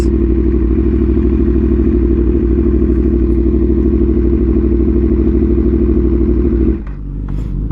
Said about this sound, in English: they're just revving their motor